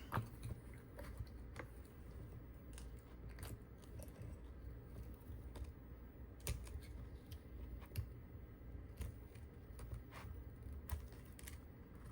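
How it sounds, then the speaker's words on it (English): Scissors snipping through silicone mold material and tape around a resin turtle mold, a steady run of small crisp cuts and crunches close by, quiet and without talk. "Let me peel back what I can and then cut the rest."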